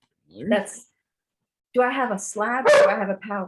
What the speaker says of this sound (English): Excuse me, that's the dog.